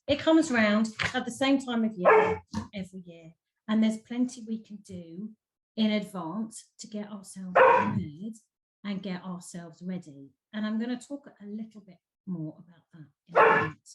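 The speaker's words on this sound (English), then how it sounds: "I apologise for the dog. I don't know why she's barking." A pet dog barks indoors while someone speaks steadily, its sharp yips and barks breaking through intermittently beneath and between her continuous talk.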